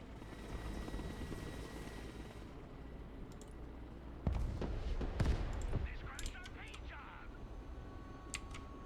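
A helicopter in the military video game Broken Arrow whirs steadily at a distance, then a few sharp blasts and gunfire crack over it midway before it fades back to a low hum.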